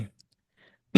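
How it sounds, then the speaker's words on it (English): A single short cough bursts out at the very end after near silence, with a brief murmur of voice at the start. "Got the coughs there."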